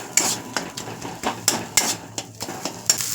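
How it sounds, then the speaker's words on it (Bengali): A spoon stirs beaten egg into cooked spice masala in a pan, making quick, light metallic taps and scrapes in an uneven rhythm, close and fairly quiet. "ডিমটা ঢেলে আমি অনবরত নেড়ে যাবো এটাকে এভাবে"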